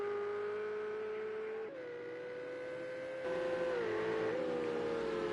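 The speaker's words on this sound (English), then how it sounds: "Gaz in the 61 Ferrari" Ferrari race car from the 1961 field in Project CARS 2, racing at Watkins Glen, passes with a loud, steady engine drone that shifts pitch as it changes gear, continuous and close throughout.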